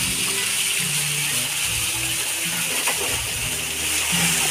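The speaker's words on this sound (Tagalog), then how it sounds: "nagdadagdag tayo ng tubig para mas lumamig po yung tubig." Water gushing steadily into a private resort swimming pool to cool it, a loud continuous rushing splash that holds evenly throughout with no voices over it.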